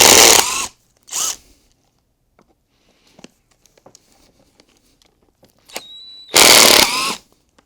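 Flywheel bolts on a Ferrari 348/355 being run out with a power tool: loud, close bursts of whirring at the start and a longer burst near the end, with quiet clicks and taps between.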